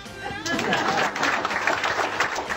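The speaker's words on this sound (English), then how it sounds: "could I have a round of applause?" Round of applause from a studio audience at a comedy show about the 2008 election, a brief burst of clapping mixed with scattered cheers and chatter, fairly close and lively.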